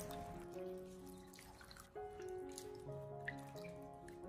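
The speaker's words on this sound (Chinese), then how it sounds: "我们尽量的将它多淘洗几遍，把猪蹄上面的一些污垢和血水完全的清理下来。" Pig trotters are rinsed repeatedly in a basin of water, making soft, quiet splashes and small drips over a faint steady background.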